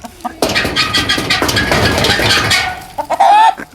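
Farm chickens clucking and squawking at close range, with scraps hitting the ground as they gather to feed, a busy flurry of calls and scratching that quiets near the end before a few sharp, higher squawks.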